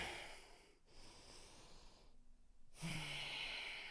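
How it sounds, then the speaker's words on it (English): Slow, audible breathing during a guided movement exercise: soft, airy breaths drawn in and released close up, with a brief quiet gap before a stronger exhale. "settle in for a few breaths"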